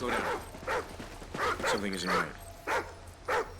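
A dog in the video game Call of Duty: Ghosts yips and barks in short bursts, along with whimpering, while a person talks at moments in between.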